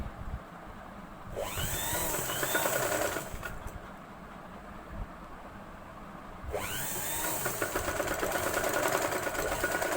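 A sewing machine stitches thin cloth piping on a boat neck blouse in two runs. Each is a fast whirring buzz lasting a few seconds, close and steady, with a quieter gap between them and no talking.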